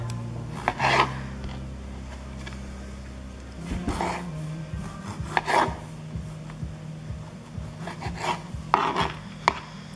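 Knife cutting through a tomato on a cutting board while making butter chicken, a series of short sharp slicing strokes spread across a few seconds, close and fairly quiet, with no talk.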